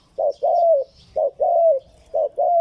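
Soft, mellow dove coos in three repeated phrases, each a short note followed by a longer drawn-out rolling coo, close and clear with no talking.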